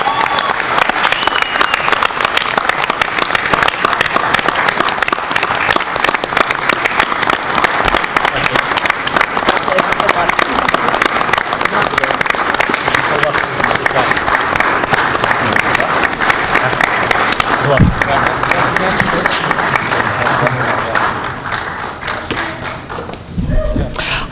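Sustained audience applause fills a board meeting room as a new football coach is congratulated, a loud, dense clapping that runs steadily for about twenty seconds before thinning and tapering off near the end.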